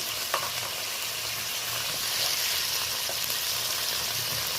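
Crab pieces fry in oil with salt and turmeric while being stirred, a continuous loud hiss and sizzle with occasional faint scrapes of a spatula, steady throughout and free of speech.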